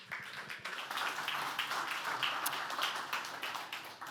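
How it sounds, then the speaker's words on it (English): Audience at a PyData conference in Amsterdam applauds steadily for the next speaker, a moderate wash of clapping lasting the whole stretch, fairly even in loudness. "So give him a big round of applause."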